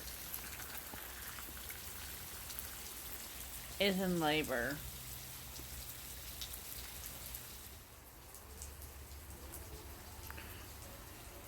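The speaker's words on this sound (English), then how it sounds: "pouring rain out right now. Well, not pouring, but more rain than we've had for a while." Steady rain falls outdoors on a farm with pregnant goats, a dense hiss filling the whole stretch and easing slightly near the end, while a voice speaks briefly over it.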